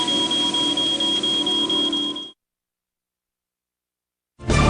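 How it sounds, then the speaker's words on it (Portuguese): A smoke detector alarm sounds as a steady, shrill high tone over a loud noisy background for about two seconds, then cuts to silence before a loud burst returns at the end. "Quando as partículas de fumaça rompem essa corrente, o alarme dispara."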